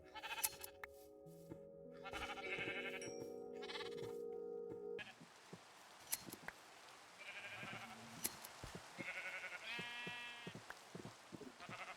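Sheep bleating in a block-building video game, several short, close bleats scattered over game sound effects and clicks, with no talking.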